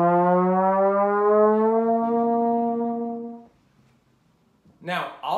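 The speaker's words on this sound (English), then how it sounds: "When we make the slide shorter, the sound gets higher." A trombone holds a strong, buzzy brass tone for about three seconds as the slide is shortened, then cuts off into near silence before a voice briefly speaks.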